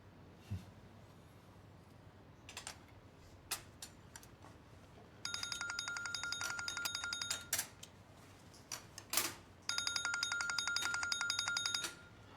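An electronic phone ringtone rings in two long warbling bursts, separated by a pause, over faint clinks and room clatter.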